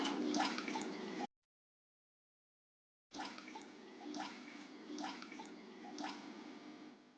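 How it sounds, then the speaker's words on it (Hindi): Water rushes from an opened tap in a steady broadband stream, cut by a brief silent gap before it resumes, with no voices over it. "ये नल खोलोगी ना"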